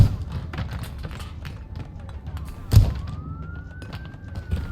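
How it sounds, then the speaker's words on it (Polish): A police siren in the video game Crime Scene Cleaner rises faintly in the distance over footsteps and thumps, its tone climbing steadily toward the end beneath background noise. "Policja jedzie."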